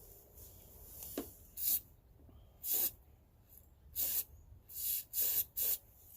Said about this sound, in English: I'm going to spray this directly into the airbox